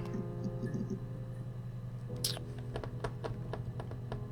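Computer keyboard keys clatter in a quick, uneven run of crisp clicks while a player types a search in the game Her Story, over a low steady hum.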